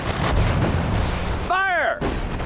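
Artillery fire in the Sudden Strike 4 video game, a loud booming shot over a dense battlefield rumble, followed by a brief whistling, sweeping tone.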